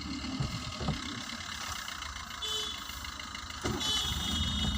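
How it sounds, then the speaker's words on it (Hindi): A Maruti Alto car engine idling as the clutch is released to pull away, a steady mid-pitched hum with a slight rise in engine load toward the end. "आराम से गाड़ी क्लच उठाइए बस।"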